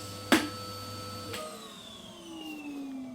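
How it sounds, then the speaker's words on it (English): A hoover vacuum cleaner used to sweep a Jotul F100 wood burning stove hums steadily, then a click as it is switched off and the motor whine slowly winds down in pitch. "So I'm going to turn the hoover off now"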